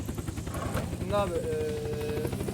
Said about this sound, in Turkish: Şu helikopter ne zaman şey...